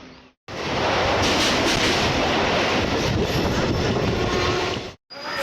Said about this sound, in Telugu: ఇప్పుడు వెళ్ళింది కదా ఫ్రెండ్స్ వందే భారత్.